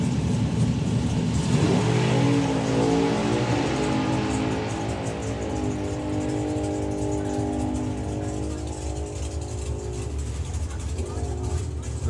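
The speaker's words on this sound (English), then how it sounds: "There you can hear Mark Bailey pedal the car then" A dragster at the Springspeed Nationals drag racing event accelerates hard down the strip, a loud roaring engine sweeping away into the distance while a commentator talks over it.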